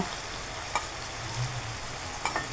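Ginger and garlic paste frying in a pan with leafy greens and dried fish, a steady close sizzle with two sharp stirring clicks of a spatula against the pan.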